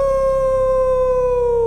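A wolf howl sound effect plays during a tabletop role-play scene about huge white wolf-dogs with piercing blue eyes. It is a single loud, steady howl that sustains evenly and sinks slightly in pitch at the end, with no voices over it.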